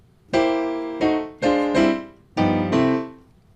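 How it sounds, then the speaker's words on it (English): A boogie woogie piano ending lick: five or six bright, punchy chords struck in a short syncopated pattern, each ringing briefly before the next, close and clear with no talking. "let's talk about some endings for Boogie Woogie Piano"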